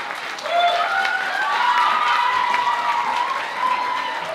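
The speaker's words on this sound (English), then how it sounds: "Keep clapping for them." Lively audience clapping and cheering at the Carracastle Lass 2014 event for local businesses, with a sustained wash of applause and rising whoops and shouts from the crowd.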